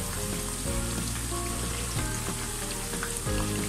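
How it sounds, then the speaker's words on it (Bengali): Chicken pakora deep-fries in hot oil over medium heat, giving a constant close, crackling bubble and sizzle with a faint tonal hum running underneath. "আমি পাকোড়াটা ভেজে নিচ্ছি, এপাশ ওপাশ দুপাশ আমি ভেজে নেব।"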